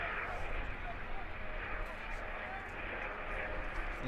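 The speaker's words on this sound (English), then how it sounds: "Helicopter flying overhead right now." Loud helicopter passing overhead at a college baseball game between BJU Bruins and Ohio Christian University, a steady broadband rumble and roar filling the whole span while a commentator keeps talking over it.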